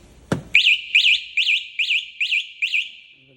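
A sharp click, then a loud electronic alarm on a 125cc delivery scooter chirping in a rapid repeating warble, six or seven even pulses, close and clear.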